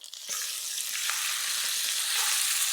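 Masala paste frying together with onion, green chili and curry leaves, made for a sea fish curry; a steady, loud broadband sizzle rises after a brief quieter start and continues with small crackles and stirring scrapes, with no talking.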